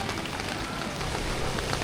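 Steady rain falls on outdoor surfaces on a Lunar New Year night, a dense, even hiss of drops with no pauses and no voices.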